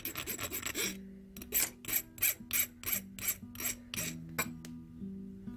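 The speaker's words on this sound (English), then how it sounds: "we can come through with a flat file or a rounded file and just kind of shape that down a little bit more" A hand file rasps across a small metal filigree pendant in about a dozen rhythmic, close strokes, each a short, bright scrape with brief pauses between, and no talking.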